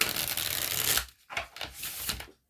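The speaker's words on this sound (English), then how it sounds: "Ooh, your cards are so slippery, Virgo. I'm gonna do that again. I shuffle" Tarot cards are shuffled by hand in a riffling, papery rush, first as one long continuous burst and then as shorter flicks and slaps, close and fairly loud with no talking over them.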